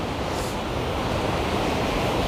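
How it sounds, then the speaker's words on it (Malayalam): Water rushes down the Urukunnu waterfall on a river in dense forest near Thenmala, a loud, unbroken roar of falling water close by with no voices. "വെള്ളം വന്നിങ്ങനെ കുത്തി ഒലിച്ചിറങ്ങി പോവുകയാണ്"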